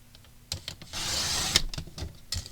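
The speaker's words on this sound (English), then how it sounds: "And I need to trim off the branding strip." A paper craft trimmer cuts the branding strip off a 12-inch sheet of patterned paper, a short grinding slide of the blade lasting about half a second, with small clicks before and after, close and fairly loud.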